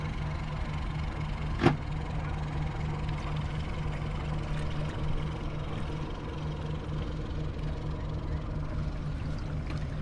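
A powerboat's engine idles low and steady while reversing out from a pontoon during an RYA Powerboat Level 2 training course, a continuous rumbling drone with one brief sharp click near the start.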